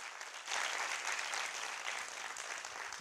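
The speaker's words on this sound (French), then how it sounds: "J'aimerais également qu'ils se félicitent avec des applaudissements." Steady applause from an audience for a group of trainees at a pitch training session, dense and sustained clapping holding at an even, fairly loud level for the whole stretch after a brief quieter start.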